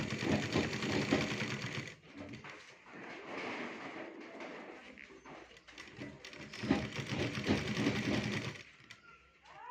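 A sewing machine stitches fabric in steady rapid runs of needle clatter, stopping briefly around the two-second mark and near the end before resuming, close and fairly quiet.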